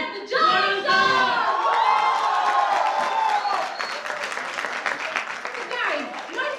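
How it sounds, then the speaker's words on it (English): An audience at a live anchoring show breaks into loud, sustained applause with cheering and whoops that hold steady throughout. "So guys, give a huge round of applause"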